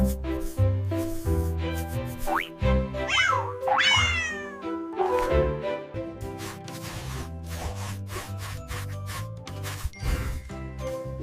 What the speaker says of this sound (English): Orange kitten.